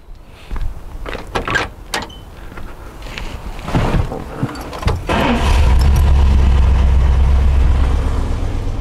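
A 1968 Chrysler Newport convertible's 383 cubic-inch V8 cranks briefly after a few key and door clicks, catches within seconds and settles into a steady, smooth, close-up idle.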